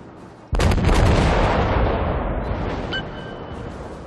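A broadside from the Myoko heavy cruiser in World of Warships booms out suddenly, loud and close, then rolls into a long rumbling decay with faint high pings near the end.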